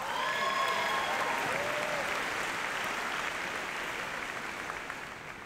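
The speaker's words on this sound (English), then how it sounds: "Let's give them a round of applause." Sustained applause from a commencement crowd honoring faculty, loud and steady throughout, tapering slightly at the end with no speech over it.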